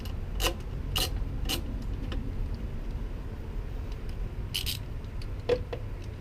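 Wrench working bolts on a vehicle's airbox: a few faint metallic clicks and ratcheting ticks, scattered and sparse over a steady low background hum.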